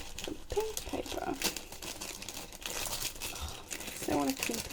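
Pink paper crinkling and rustling as a Painted Love Birds craft kit is unboxed, close and crisp with a few tearing bursts; a voice speaks briefly in between.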